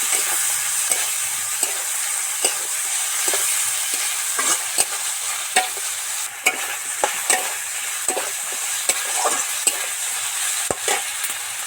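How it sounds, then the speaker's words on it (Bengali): Ginger garlic paste fries in oil in a pan while being stirred: a steady, close sizzle with repeated spoon scrapes and taps at an even rhythm throughout, with no voices. "এবার এর মধ্যে আদা রসুনের পেস্টটা দিয়ে দেব দিয়ে ভালো করে নেড়ে চেড়ে মিশিয়ে দেবো"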